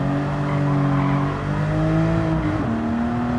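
A Porsche 911 Carrera RS (964) engine in Gran Turismo 7, heard from the bonnet camera, drones steadily at high revs, its pitch holding then dipping briefly near the end, loud and continuous with no talk.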